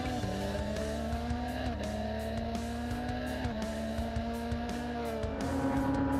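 Race cars pulling away from the lights at the start of a race at Oulton Park, a loud, dense pack of engines revving and shifting together with steady roaring pitch and occasional tyre noise.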